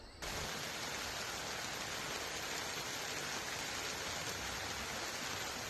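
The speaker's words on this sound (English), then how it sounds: "when I woke up in the morning," Steady morning rain falls at a campsite, a constant even hiss with no breaks, heard close and fairly quiet with no voices.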